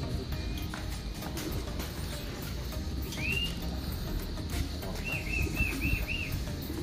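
Pigeons at a loft make a dense, continuous flutter of flapping wings, with a few faint chirps rising above the steady rush.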